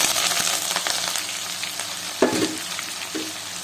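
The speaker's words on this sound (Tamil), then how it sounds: "இது நல்லா பொரிஞ்சதும் காஞ்ச மிளகாய், பூண்டு, கருவேப்பிலை சேர்த்துக்கலாம்." Dried chillies, garlic and curry leaves fry in hot oil with spices and chana dal for a tomato pickle, a steady close sizzle with crackles and brief sharper pops as the pan is stirred.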